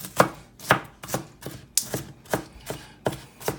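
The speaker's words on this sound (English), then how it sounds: "Ozzy's chopping up the onions that we are going to saute" Onions are chopped on a cutting board for taco filling, giving about a dozen crisp, evenly spaced knife strikes close by and alone, without talk.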